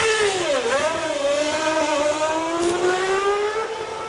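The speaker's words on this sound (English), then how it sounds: "he releases the clutch and the car screams out of the box, leaving the pit crew in a cloud of smoke." A 2002 Formula 1 car accelerating hard out of the pit box during a pit stop, its high-pitched engine screaming and climbing steadily through the gears, loud and close.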